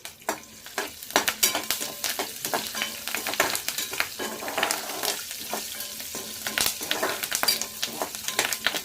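Dried red chillies sizzle in hot tempering oil for a coconut peanut chutney, a steady crackling fry with stirring scrapes scattered through, close and moderately loud, no voices.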